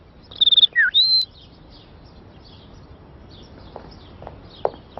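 Whistled bird calls from a cartoon character, a voice imitating birdsong with quick trilled chirps and a rising-falling whistle up front, then faint scattered ticks and quiet background.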